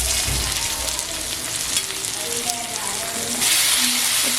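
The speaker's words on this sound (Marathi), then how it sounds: "पापलेट मस्त फ्राय झालेले आहेत" Thinly sliced pomfret fish frying in a pan, a steady soft sizzle and crackle of oil running throughout, growing slightly louder near the end.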